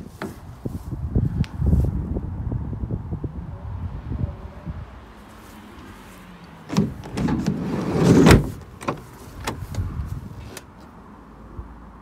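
Side sliding door of a VW Caddy van, a ply-lined commercial vehicle, with rumbling rolling movement and a sharp latch clunk near the middle, close, followed by lighter knocks.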